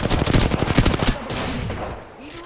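Fast automatic gunfire in a video game, a loud close burst of rapid shots for about a second, then a lower rumble and faint voice-like sounds as it dies away.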